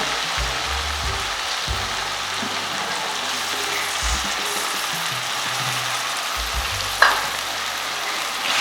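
Minced mutton keema with softened tomatoes sizzles and fries steadily in a pan, a continuous close crackle with a sharp stir or utensil clink near the end.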